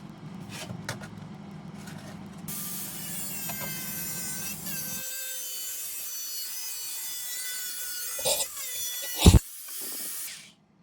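Close sawing and rasping through a plastic washer bottle, steady grinding strokes with a higher-pitched whine, then a couple of sharp knocks as the cutting stops.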